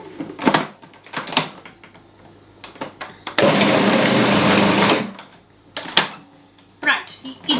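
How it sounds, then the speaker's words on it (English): A blender runs on roasted red pepper and eggplant ajvar in one loud, steady burst of about a second and a half, with talk before and after it. "And now we are going to blend it."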